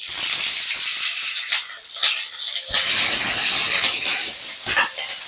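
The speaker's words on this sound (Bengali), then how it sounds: "করলাগুলোকে আমি হালকা করে ভেজে নেব।" Long sliced bitter gourd strips fry in hot mustard oil in a heated wok, giving a loud, steady hiss and spitting sizzle that dips and surges a few times, with no talk.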